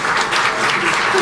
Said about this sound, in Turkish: Evet, gerçekten ayağa kalkıp alkışlamak gerekiyordu.